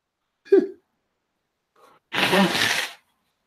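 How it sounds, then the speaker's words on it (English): A brief sharp nasal burst followed by a longer, forceful honking blow through the nose, close and loud in an otherwise quiet room. "Sorry, I had to blow my nose."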